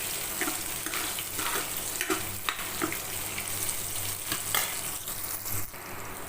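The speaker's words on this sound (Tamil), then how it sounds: "இப்போ வெங்காயம் நல்லா வதங்கிருச்சு" Onions with green chillies sauté in a pan for a brinjal kadayal, giving a soft, steady sizzle with irregular stirring scrapes at close range and no talking.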